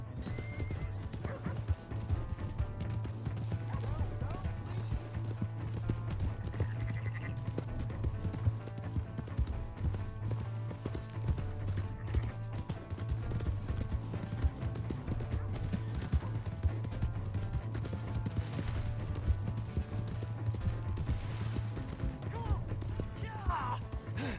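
Steady clip-clop of horse hooves galloping throughout in Red Dead Redemption 2, with whinnies and occasional crashes, a video game soundscape with faint voices.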